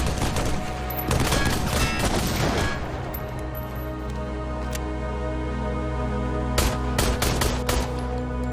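A robot enemy in a video game firing a machine gun, heard as clustered bursts of rapid shots early on and again near the end, over a steady low rumble with no talking.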